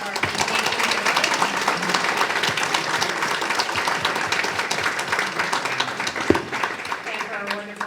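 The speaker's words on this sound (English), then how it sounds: "Can we get a huge round of applause for our" Audience at an arts panel in Lakeland, Florida giving sustained applause, steady and fairly loud throughout, with voices mixed into the clapping.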